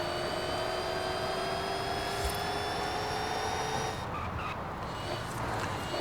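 A high, steady electric motor whine with layered tonal hums from a 1000 hp electric Hyundai N Vision accelerating in Forza Horizon 5, continuous with a slight dip near the end.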